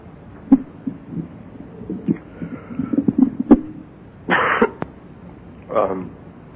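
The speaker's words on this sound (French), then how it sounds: "Vous allez m'excuser si je tousse au cours de la soirée, mais j'ai la grippe." A man with the flu coughs twice, close and harsh, in two short bursts near the end, after a stretch of low scattered throat and mouth noises.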